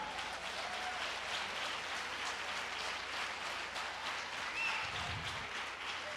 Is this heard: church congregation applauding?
yes